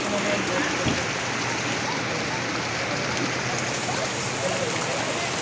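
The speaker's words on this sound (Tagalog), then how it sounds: "Ayan, biglang bumuhos na naman ng napakalakas na ulan." Heavy rain pours down steadily outside a small shop, a dense, continuous hiss that stays loud and even throughout with no pauses.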